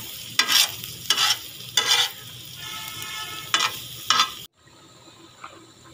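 A tawa frying ingredients for a street-style kaleji bun kabab, with a steady sizzle broken by five scraping stirs of a spatula, each a bright burst, before the sizzle cuts off and quieter cooking continues.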